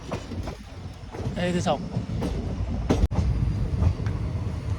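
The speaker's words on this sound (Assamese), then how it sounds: "গৈ আছোঁ বৰ্তমান ট্ৰেইনত" Interior of a moving passenger train, a steady rattling rumble of wheels on track with occasional clacks and one sharp bang, while a person talks over it.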